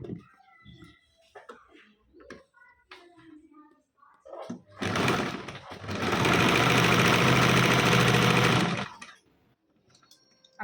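A sewing machine runs steadily for about four seconds while stitching a frill dress, loud and close. Quieter handling noises with a voice come before and after it.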